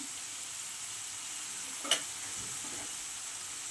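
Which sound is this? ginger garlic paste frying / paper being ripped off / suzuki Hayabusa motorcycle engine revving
ginger garlic paste frying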